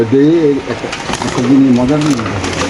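Close pigeons cooing in soft, wavering calls at a pigeon farm sale, with people talking nearby over them.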